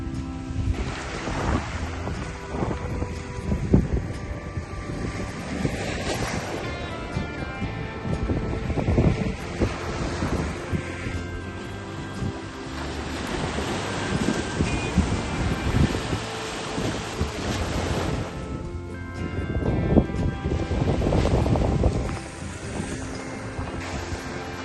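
Waves and wind along the white-sand Emerald Coast beach at Topsail Hill Preserve State Park, Florida: a loud, continuous roar of surf and gusting wind that swells and ebbs throughout, with no voices.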